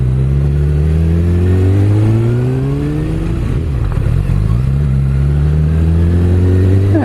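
A 2016 Kawasaki Ninja ZX6R motorcycle engine hums steadily at about 2,500 rpm in sixth gear near 30 mph through sharp corners. The loud, close drone rises and falls in pitch with small throttle changes, with no talking.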